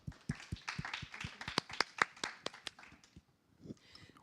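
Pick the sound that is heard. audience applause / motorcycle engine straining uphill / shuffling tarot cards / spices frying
audience applause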